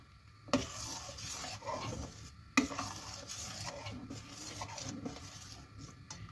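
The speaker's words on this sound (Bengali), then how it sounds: "এইভাবে আমি খেজুর গুড়টাকে ভালোভাবে মিলিয়ে নেব, দিয়ে কিছুক্ষণ ফোটাবো।" Spoon stirring date palm jaggery into simmering chhana payesh in a pot: close, repeated scraping and swishing strokes, with a couple of sharper knocks against the pot.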